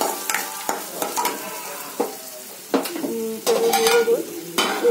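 Carrot stir-fry sizzling in a pan as a spatula scrapes and stirs it, with repeated clinks and scrapes over a continuous frying hiss, close and fairly loud.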